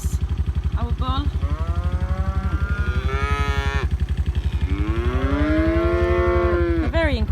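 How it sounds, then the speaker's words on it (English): Several long, drawn-out moos from farm cattle one after another, loud and close, over a steady low quad bike engine rumble. "That's the cattle."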